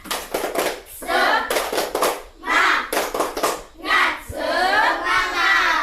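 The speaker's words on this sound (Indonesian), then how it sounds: "Tepuk semangat." A school class performs a rhythmic spirit clap, bursts of patterned clapping alternating with children chanting together in loud, energetic rounds.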